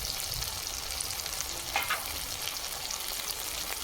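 Chilli powder and spices frying in oil for spicy Kashmiri aloo dum, a steady close sizzle that runs throughout with a brief brighter crackle midway and no talk.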